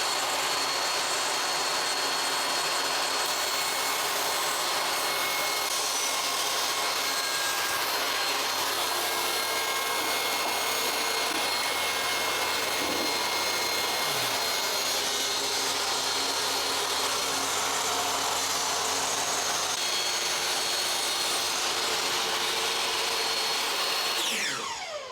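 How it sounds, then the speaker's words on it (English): A saw cuts a wood strip for a guitar headstock template, a loud, continuous whining roar close by that holds steady for the full stretch before winding down at the end. "So I've already got the saw set up to the thickness of this. Go ahead and just run me one good strip."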